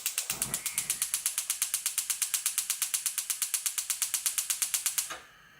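A stove is switched on to heat a pan with coconut oil, a rapid regular ratcheting tick of the gas igniter clicking for about five seconds, loud and close, then stopping.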